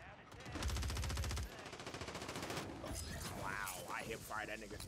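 Rapid automatic gunfire from the Warzone video game, a dense burst of shots followed by more scattered firing, with players talking over the action.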